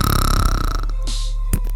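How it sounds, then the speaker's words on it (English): A long, low burp rumbles loudly through the first half second or so, then trails off into a quieter steady hum with a faint hiss, no talking over it. "Yeah, I got you burping on the other YouTube."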